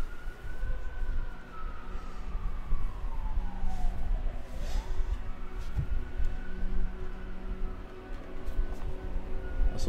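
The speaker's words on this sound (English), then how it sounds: "So sorry if you guys hear sirens." An emergency siren sounds outside, wailing with a long falling and rising sweep, moderately loud and steady over a low background rumble.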